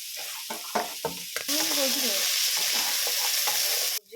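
Beans, carrots and peas are stir-fried in a hot wok. A few scrapes come first, then a loud, steady close sizzle that runs almost to the end.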